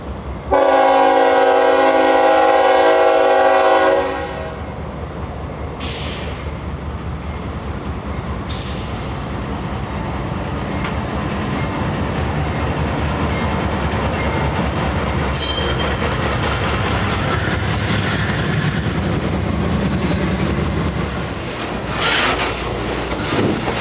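A CSX intermodal freight train with its locomotives opens with a loud, sustained horn blast, then settles into a long, heavy rumble of diesel engines and rolling cars with occasional squeals, near and continuous.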